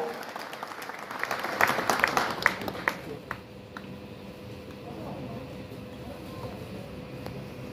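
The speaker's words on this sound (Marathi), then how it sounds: "आपण पुन्हा एकदा टाळ्या वाजवून सन्माननीय दादांचं या ठिकाणी स्वागत करूया" A crowd bursts into applause to welcome a respected guest called Dada at an event at the Vitthal sugar factory. The clapping is dense and loud for about three seconds, then fades into a low murmur of crowd noise.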